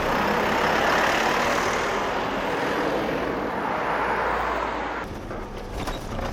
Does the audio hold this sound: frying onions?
no